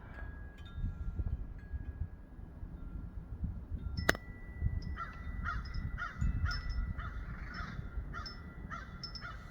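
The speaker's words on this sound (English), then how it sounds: "very aware of the crows." Several crows caw repeatedly from a tree with a nest, in short harsh bursts at moderate distance, over a low wind rumble. One sharp knock or click stands out partway through.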